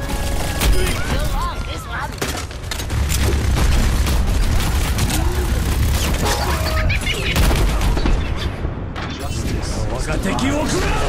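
Overwatch match with Junkrat's explosive weapons: a dense, continuous barrage of booming blasts and rapid gunfire-like bursts fills the whole stretch, loud and chaotic, with game voice lines mixed in.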